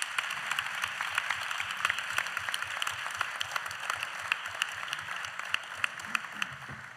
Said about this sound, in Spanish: podéis aplaudir, claro que sí